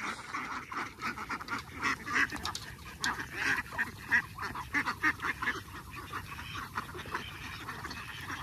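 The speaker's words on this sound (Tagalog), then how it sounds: "Magpapastol po tayo ng itik." A flock of ducks being herded out to pasture, quacking in a steady, overlapping chorus that rises and falls in bursts, fairly close and continuous throughout.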